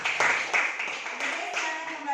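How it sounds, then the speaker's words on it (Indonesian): Schoolchildren in a classroom clapping for a classmate, a brisk burst of many hands with children's voices mixed in. "Berikan tepuk tangan dulu untuk temannya"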